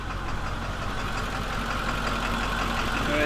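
A 7.3 diesel 4x4 van with a front-end conversion pulls away in second gear, its steady, close, loud engine drone holding an even rumbling tone without a break.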